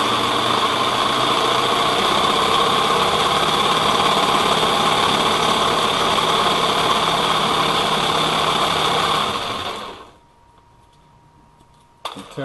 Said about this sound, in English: when you're cutting this with a jigsaw, you make sure you have the jigsaw on low power